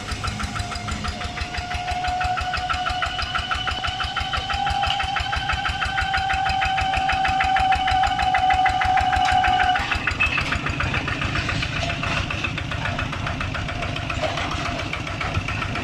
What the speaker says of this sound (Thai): ลองเครื่องลูกค้านะครับ